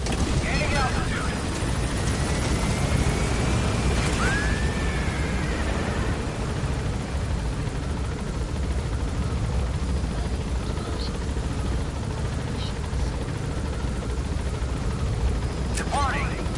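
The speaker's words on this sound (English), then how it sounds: "Right, take me into the air. Gaining altitude." A helicopter lifts off in the video game Metal Gear Solid 5, its rotor and engine making a steady, loud whooshing roar with occasional game sound effects over it.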